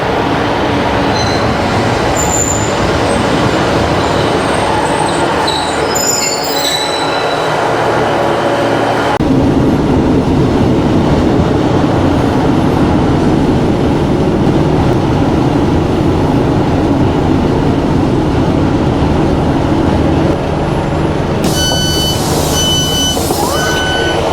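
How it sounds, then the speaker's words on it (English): A train on a Cornish branch line near Truro rumbles and clatters along the rails at close range, with a steady roar, a shift in tone midway, and bright beeping tones near the end. "I'm currently waiting for the next train to come down from Truro"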